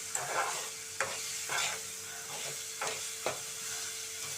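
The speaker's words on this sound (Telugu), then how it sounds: "ఇలా తెల్లగా మిరపకాయలు వేగాలండి" Green chillies frying in a pan, with a steady close sizzle broken by regular stirring scrapes about every half second, moderately quiet.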